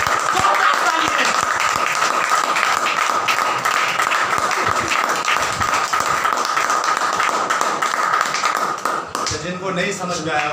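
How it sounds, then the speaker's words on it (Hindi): Loud audience applause at a religious gathering, dense rapid clapping sustained for roughly nine seconds before tapering, with a voice speaking near the end. "जोरदार तालियां।"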